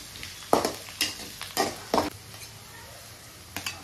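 Chopped onions sizzle in oil in a pan while being stirred, with a run of short, uneven scraping stirs over a soft, steady frying hiss, heard close up.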